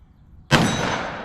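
.44 Magnum revolver firing a light plinking load: one sharp, loud, close shot with a long ringing decay, alone with no voices.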